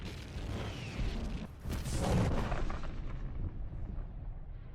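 A rhydonium explosion from the 2003 Clone Wars animated series bursts in a dense, rumbling blast, with a sharper crack near the middle and a churning roar that slowly tails off.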